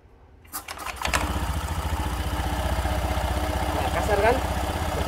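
After a brief near-silence, a small motorcycle-type engine cranks and catches, then settles into a steady, throbbing idle close by.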